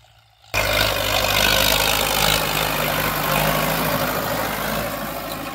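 A 6610S tractor engine idles with a steady, loud, low rumble that starts abruptly after a brief quiet moment and then runs on evenly with no talk.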